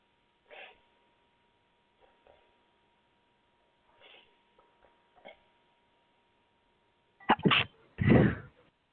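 A person sneezes twice in close succession, loud and near, after a few quiet sniffs and small mouth noises in an otherwise silent room.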